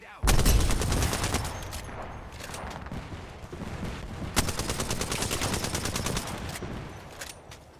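Dense video-game gunfire mixes with a thermite grenade going off in a fast online shooter: a sharp initial burst, then continuous rapid automatic fire with a second loud crack midway, loud and close throughout.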